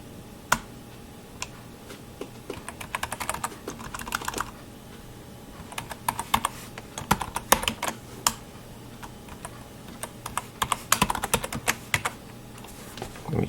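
Fingers type a password on a computer keyboard during a Linux Mint install, giving quick, irregular clicks and taps in bursts with short pauses, close and clear over a faint room hum.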